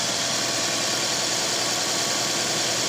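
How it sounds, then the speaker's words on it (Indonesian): A car engine idles roughly with a misfire, its steady broadband drone running loud and continuous through the whole stretch with no talk. "dalam kondisi mesin hidup, mesinnya dalam masih posisi pincang atau hidupnya tidak normal"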